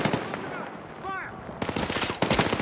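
Battlefield 6 campaign combat with rapid bursts of machine-gun fire, dense and loud, mixed with other battle noise and a brief tonal whine in the middle.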